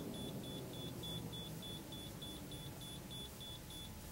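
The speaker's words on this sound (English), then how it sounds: "Now what that is over there is that is the jacks beeping." Rapid, evenly spaced electronic warning beeps from the hydraulic jacks of a 1999 Airstream Cutter 35 diesel pusher RV repeat about three times per second, faint and somewhat distant over a low rumbling engine drone.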